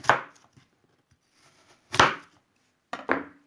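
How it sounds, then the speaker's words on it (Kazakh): Apples are chopped with a knife for compote: three separate crisp chops at uneven intervals, the first and last close together, each sharp and brief against near silence. "Осылай міне сыртын ашып, бөліп бұлай турап аламыз."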